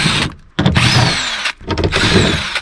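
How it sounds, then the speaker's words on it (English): A power drill whirs in two bursts with a short pause between them, close and loud, while unbolting the door speaker assembly of a 1997–2005 Lexus GS. "Now you can unbolt the whole speaker assembly."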